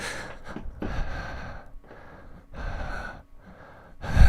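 A voice imitates slow, low breathing: several drawn-out, breathy inhale-exhale cycles with short pauses between them, close and fairly soft.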